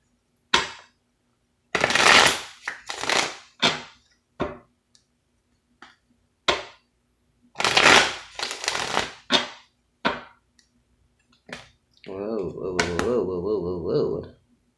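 Bursts of tarot cards being shuffled and riffled, several short rounds separated by pauses, close and crisp, with a voice speaking at the end.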